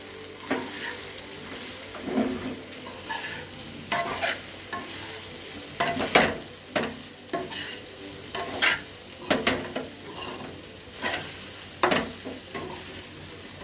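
Muttiya mixture stirred in a frying pan, a spoon scraping in irregular strokes over a steady sizzle of frying, close and alone with no talk.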